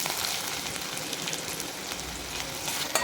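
Sliced onions sizzle steadily in hot oil in a pan, a close, even crackling hiss with occasional sharper pops as they fry.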